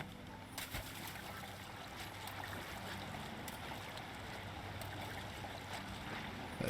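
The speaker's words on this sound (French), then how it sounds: "Déjà si j'arrive à remonter cette fucking cascade." A waterfall in the video game The Legend of Zelda: Breath of the Wild, a continuous rushing wash of water at steady volume with a few faint clicks layered over it.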